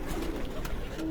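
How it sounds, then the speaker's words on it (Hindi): A Ferozpuri pigeon coos up close on a rooftop, giving a few soft, low throaty murmurs in a short burst with faint background noise. "फिरोजपुरी कबूतर जी।"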